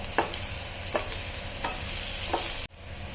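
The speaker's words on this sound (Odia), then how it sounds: "ଏବେ ପ୍ୟାନ୍ରେ କଞ୍ଚା ଲଙ୍କା ଆଉ ପିଆଜ ପକାଇ ତାକୁ ଟିକେ ଖଡ଼ିକାରେ ଗୋଳେଇବା।" Green chili and onion stir-frying in a pan, a steady sizzle with four distinct scrapes of a spatula at regular intervals, cut off abruptly near the end.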